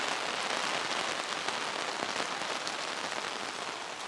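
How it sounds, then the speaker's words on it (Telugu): Heavy monsoon rain in Hyderabad drums on an open umbrella held close overhead, a dense, continuous patter of drops that stays loud and even from start to finish, with no voices. "నా గొడుగు మీద వర్షపు చినుకులు పడుతున్నాయి."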